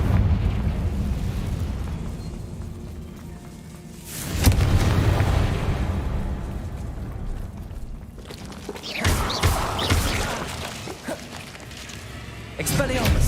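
A Confringo explosive spell going off in Hogwarts Legacy, with a deep, rumbling boom that hits suddenly and then rolls on, followed by more crackling blasts and bursts later, mixed with game sounds throughout.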